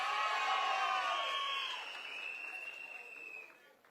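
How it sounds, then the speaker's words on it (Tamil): Rally audience for someone speaker at a TVK third-anniversary event claps and cheers as a broad crowd roar, loud at first and then slowly fading over a few seconds. "நம்ம சிங்கப்பெண்ணை நல்லா கைத்தட்டி உற்சாகப்படுத்துங்கப்பா."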